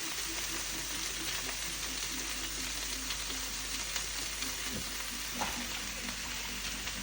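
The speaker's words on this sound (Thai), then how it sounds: "อดมันฝรั่ง" Potatoes frying in oil give a continuous, even sizzle and crackle close by, steady throughout with faint stirring clicks and no voices.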